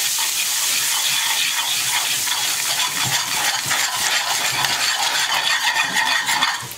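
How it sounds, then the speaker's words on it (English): White wine hits a hot pan to deglaze it, producing a loud, steady sizzle and hiss with bubbling crackle and occasional stirring, close and continuous with no speech. "You hear that sizzle?"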